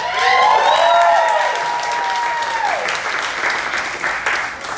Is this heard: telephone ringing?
no